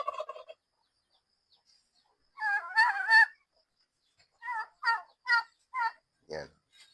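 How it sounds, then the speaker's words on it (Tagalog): Turkeys on a small backyard farm gobble in a series of short, bubbling calls, a long burst followed by five or six quick separate gobbles at moderate distance, with a brief clucking sound at the start. "Saka yung mga nag-aaway doon na pabo."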